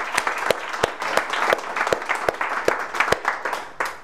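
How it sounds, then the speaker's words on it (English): Audience applauding before a design talk: a moderate, steady patter of hands with several sharp, close individual claps standing out at irregular intervals. "can we have a big round of applause for Brona today, and also Jackie"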